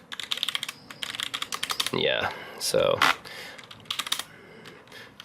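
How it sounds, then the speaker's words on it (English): Rapid clicking keystrokes on a Corsair K70 Pro mechanical keyboard, typed into a terminal, come in close bursts with a pause in the middle where someone speaks briefly. "I can do just typing something on the terminal here."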